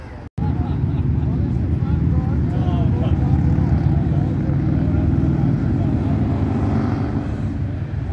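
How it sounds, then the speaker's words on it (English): A toy run of many motorcycles passing, heard as a loud, continuous low engine roar that swells and holds steady without a break. "There's a massive amount of motorbikes."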